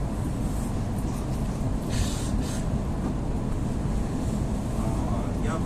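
Inside an EP2D electric commuter train riding ordinary tracks on a snowy day, a steady, loud low rumble of wheels and car body continues throughout with a faint airy hiss above it.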